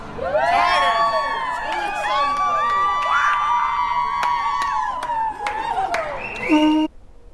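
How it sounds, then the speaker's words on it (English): A crowd at a council vote erupts in shouts, whoops and cheers, with scattered clapping running throughout, loud and dense before cutting off abruptly. "The shouts, the tears, the cheers."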